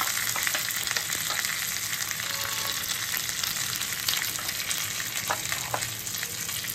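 Roasted chana fries in a pan and is stirred, making a dense, loud, unbroken sizzle close by, with occasional light scraping and rattling and no talking.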